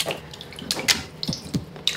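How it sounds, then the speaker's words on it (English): Water is poured into a paper slurry made from fabric during papermaking. There are short splashes and trickles that sound like running water, close and moderately loud, over two seconds with no talking. "add water to my slurry here"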